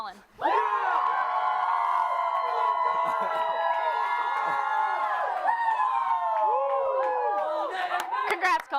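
A crowd cheers, whoops and claps loudly and continuously to vote for a winner at a live sports show, a dense, sustained roar with shrill whistles and shouts rising near the end.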